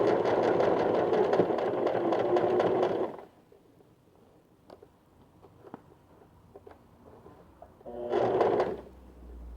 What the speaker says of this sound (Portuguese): eu vou dar aqui o retrocesso e vou fazer a costura em toda a volta